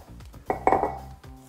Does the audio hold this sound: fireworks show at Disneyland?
no